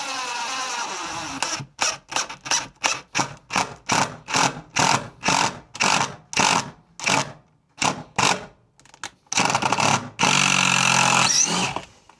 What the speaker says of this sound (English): I can drill all of them out on the cedar.